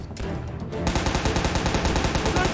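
RPK machine gun firing in the Soviet Soldier video game, a brief burst of rapid automatic shots after a short pause, loud and close.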